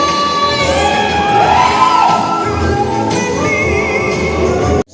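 Loud party crowd cheering, whooping and shouting for birthday girls at an indoor celebration in Rancho Estate 2, Marikina, a dense continuous roar of voices that cuts off abruptly near the end.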